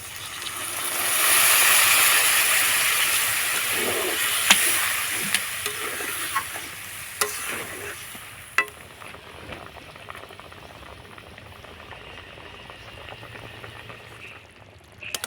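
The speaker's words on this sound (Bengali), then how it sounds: "এবার দিয়ে দেবো আমি পরিমাণ মতন জল" Water poured into spiced potato curry frying in a pan, a loud hiss and sizzle that settles into steady bubbling boil, with a few sharp clinks of a spoon stirring.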